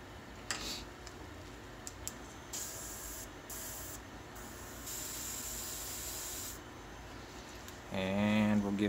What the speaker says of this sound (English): Give him a quick spray with the gloss varnish.